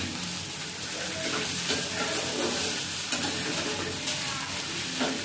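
Grated potato mixed with spices frying in a pan for spring onion pakoras, a steady close sizzle with scraping stirs throughout and no talk.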